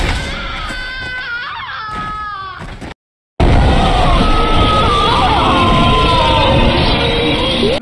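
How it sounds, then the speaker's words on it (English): The Other Mother's scream from Coraline echoes through an indie horror game: a loud, harsh, wavering shriek, a short gap of silence, then a sustained noisy roar of screaming that fills the space. "The other mother scream from Coraline."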